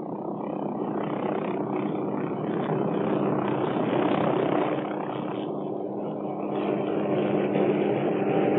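A Hughes OH-6 Cayuse light helicopter flies past, its rotor and turbine making a loud, steady, throbbing roar that holds for the whole stretch.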